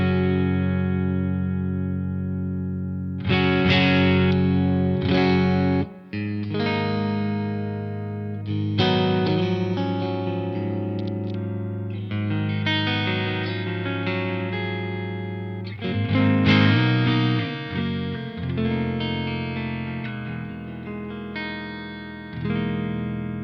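Electric guitar through a Twin Sister amp pedal on a clean setting plays chords and single-note lines with a full, warm tone, steady and close, without talk.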